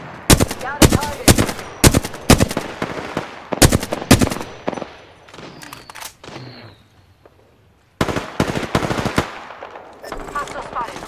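Gunfire in Apex Legends rattles in loud, close automatic bursts of rapid shots, stopping briefly before another volley resumes.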